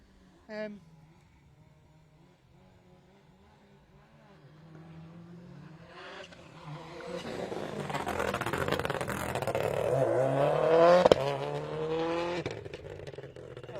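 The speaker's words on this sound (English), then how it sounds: "Noisy Subaru." A Subaru rally car competing in a junior spring rally stage, its engine noise swelling from a distant approach to a loud, roaring pass close by, with a brief sharp tone near the peak and people talking over it.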